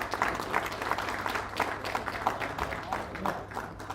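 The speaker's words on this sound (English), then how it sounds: "Can you give a huge round of applause, everybody together?" Audience applause rising for a guest being welcomed at the 16th National Skill Conference, a steady wash of many hands clapping across the whole stretch, moderately loud and fairly close.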